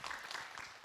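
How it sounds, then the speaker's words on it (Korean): A short, soft burst of audience applause in a Buddhist dharma talk hall, a faint patter of clapping hands lasting under a second. "박수로 맞으세요"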